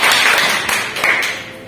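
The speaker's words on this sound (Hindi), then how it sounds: "एक बार तालियां बजा दो जरा जोरदार" A class of students claps together in a dense, steady burst of applause for a couple of seconds, loud and close, with no talking over it.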